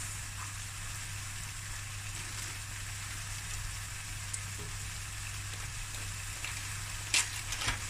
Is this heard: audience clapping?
no